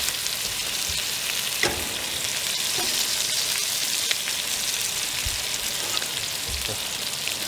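A steak sears in a cast iron skillet with thyme, rosemary and garlic, giving a steady, bright sizzle and fry hiss with a few soft pops and spatters, close and continuous with no talk.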